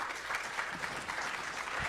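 Conference audience at a Monaco collectibles panel applauds a panelist, soft, even clapping from a room heard at moderate distance, steady for the whole stretch.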